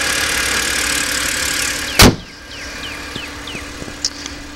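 The 3-liter inline six of a 2011 BMW 328i xDrive idles with a steady, even hum, then a loud click cuts it, leaving faint ticking and chirps, close by, with no talk.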